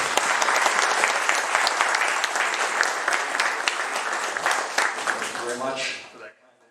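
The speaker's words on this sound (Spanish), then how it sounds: "Démosle un fuerte aplauso" A large audience applauds steadily at a scientific meeting on nanoparticle measurement, dense clapping holding for several seconds before tapering off and fading out.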